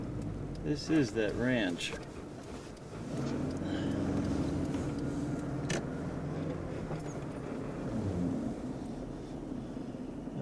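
A car driving on a ranch road in Bailey in winter, heard as a steady close engine and road rumble with wind buffeting the microphone, while people talk over it.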